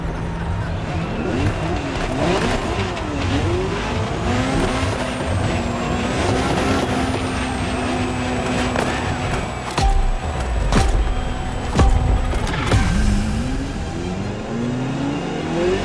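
A Ferrari GTO revs and accelerates in The Crew Motorfest, the engine note rising and falling through gear changes with tyre skids and a sustained high whine, loud and close throughout.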